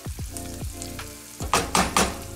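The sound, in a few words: onion, pepper and garlic gently frying in pan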